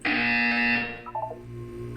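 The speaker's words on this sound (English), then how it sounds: "You will hear a buzzer." A loud electronic buzzer sounds once in a Portal 2 test chamber, a harsh sustained tone lasting under a second before it cuts off, followed by a short electronic warble and a low hum.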